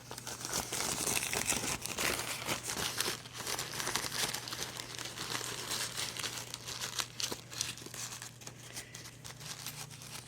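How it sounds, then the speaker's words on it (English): Paper chromatography filters being crinkled up in the middle by hand, a continuous close, faint crackling rustle with a low steady hum underneath and no speech. "to make a butterfly out of your chromatography filters, you just crinkle up the middle."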